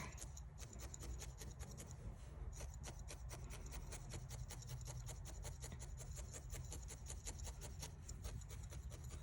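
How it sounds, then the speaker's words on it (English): A felting needle jabs rapidly and steadily into wool while the top coat of a needle-felted fox ornament is worked in, giving a dense run of close, soft scratchy pokes over a constant low rumble. "you're just needle felting this top coat in"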